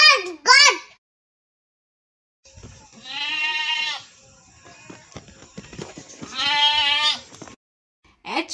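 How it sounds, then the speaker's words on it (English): Two drawn-out goat bleats ring out loud and close, separated by a pause, with a short child-like voice at the start and end. "G for goat."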